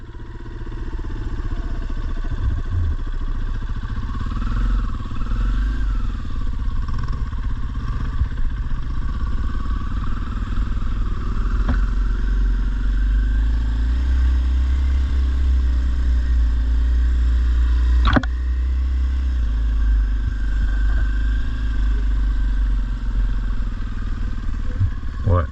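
A dirt bike engine idles and runs steadily nearby with a low rumbling drone, a few faint clanks and shifts in pitch, and no clear revving bursts.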